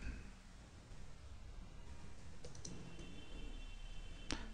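A few keystrokes on a computer keyboard while a command to make a bootable USB drive is entered: soft scattered clicks and one sharp, close tap near the end over steady background hiss.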